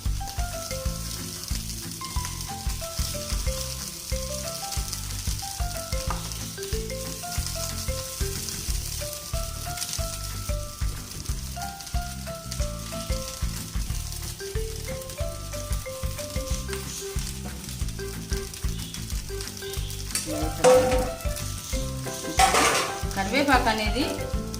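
Egg semiya noodles fry and get stirred in a pan, giving a continuous sizzle under melodic background music, with a burst of louder spatula scraping and clatter near the end.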